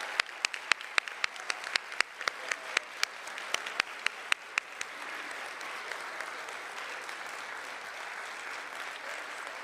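Applause for National Honor Society inductees at a high school ceremony: scattered sharp claps at first, quickly building into sustained, fairly distant clapping from the audience.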